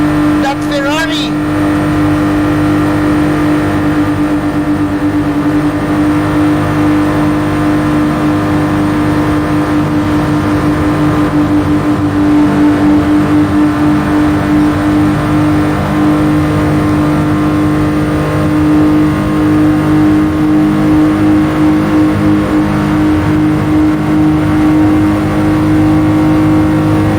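Race cars, among them a Ferrari, in Gran Turismo Sport, an online Nations Cup race: a loud, continuous engine drone at high revs, steady throughout, with excited commentary running over it.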